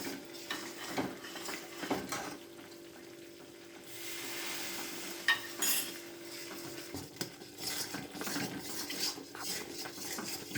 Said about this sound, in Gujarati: અને ઘી એકદમ ગરમ ગરમ જ નાખવાનું છે.